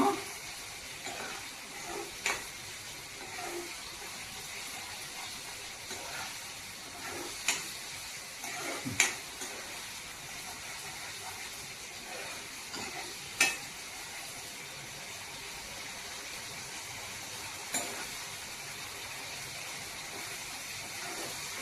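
Bottle gourd kofta curry masala fries gently in oil, a faint, continuous low sizzle with occasional louder scrapes and taps of stirring spaced a few seconds apart.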